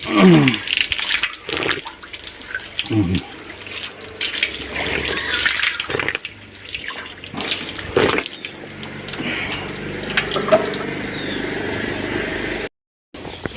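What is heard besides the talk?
holy water flowing from spring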